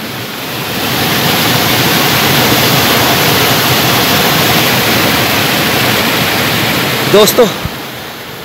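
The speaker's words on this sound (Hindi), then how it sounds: "ये देखिए ग्लेशियर के नीचे से पानी बह रहा है।" Meltwater rushes out from beneath a glacier near Vasudhara in Uttarakhand, a loud, steady roar that fills the whole stretch, with someone briefly speaking over it near the end.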